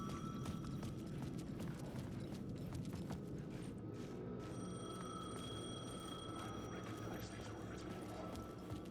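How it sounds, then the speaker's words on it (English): A payphone rings in the video game Alan Wake 2, a repeated metallic bell trill heard over a dense, constant background of game ambience and low rumble. "The payphone was ringing."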